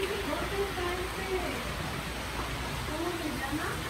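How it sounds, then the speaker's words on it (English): Steady, heavy rain hisses continuously, with indistinct voices murmuring faintly beneath it. "Oh my God, it's a lot of rain."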